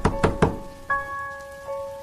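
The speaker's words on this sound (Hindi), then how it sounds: "उधर दरवाजे पर धक्के की आवाज बढ़ती ही जा रही थी।" Three quick, heavy thuds of banging on a door come in a tight burst, followed by sustained ringing tones and one more soft knock, with no voices.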